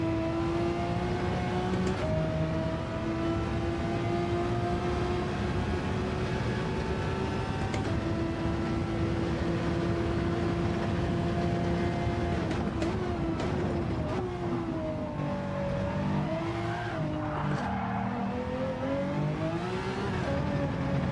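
Race car engine in a racing game time trial, driven with no assists, droning steadily and shifting pitch through the gears, with revs rising and falling near the end, loud and continuous with no voices.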